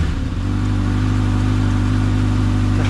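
A 2024 Kawasaki ZX-6R 636 with an Arrow slip-on muffler rumbles loudly and close, a deep throbbing engine whose pitch climbs slightly as it settles into a steady, pulsing drone.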